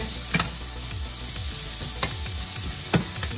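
Corned beef with sweet pepper and onions fries in a pan with a constant close sizzle, broken by three sharp scrapes and clacks of a utensil stirring the mixture.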